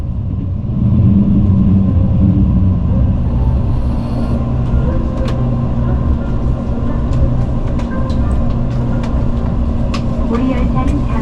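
A Mugunghwa passenger train on the Gyeongbu Line pulls into Daejeon station, a steady low rumble of wheels and carriage noise filling the interior, with faint clicks and an onboard announcement voice over it.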